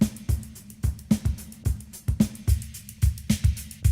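A thin, bright snare drum with its low end equalized away plays a steady looping beat, each hit a sharp crack repeating about every half second, alone and close, from a deconstruction of a song's breakbeat.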